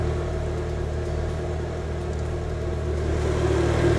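A steady, low engine hum from a 1999 Mitsubishi Eclipse GSX idling on a new ECU, continuous with a constant rumble and no revving, close by.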